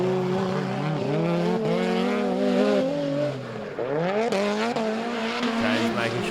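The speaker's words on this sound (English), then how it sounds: "it was once they got onto the bottom straight that James Abbott's car just really seemed to pull away" Drift race cars scream through a corner at Sydney Motorsport Park during a Hi-Tec Drift Allstars round, engines revving up and down with tire squeal, loud and close, under commentary.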